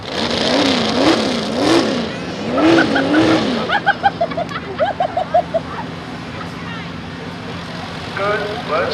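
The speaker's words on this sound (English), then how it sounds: "Revving up to get that thing backed into the sled." A pulling truck called Ripsaw revs its engine at a truck and tractor pull, sweeping up and down in rising, falling roars, then giving a string of short sharp blips, while an announcer talks over it.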